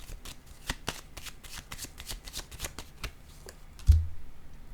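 Tarot cards are shuffled close up, giving soft riffling and crisp card flicks in an uneven rhythm. A firmer thump follows near the end as a card is drawn and set down, with no voices.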